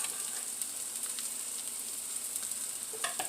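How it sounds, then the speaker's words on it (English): Baby chard and carrot top greens sauteing in a pan give a steady, moderately quiet sizzle with a bright hiss. A few small crackles break through near the end, and no one speaks. "I'm going to start sauteing these"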